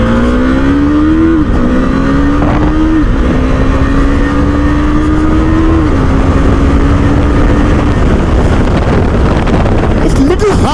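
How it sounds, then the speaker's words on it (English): A 2021 KTM Duke 390 BS6 motorcycle accelerates hard, its engine note climbing and then dropping sharply with each quick shifter upshift, under loud wind noise. "I'll try the quick shifter."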